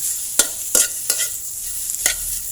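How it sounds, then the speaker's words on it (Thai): Pork belly stir-fries in hot oil in a pan, giving a steady sizzle broken by several scraping stirs of a utensil at irregular intervals, close by. "เอาหมูไปขั่วน้ำมันก็ออกจ้า"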